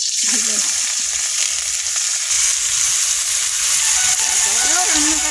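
Dal lentils fry in hot oil in a wok, giving a loud, continuous hissing sizzle throughout, with a voice briefly audible at the start and again near the end.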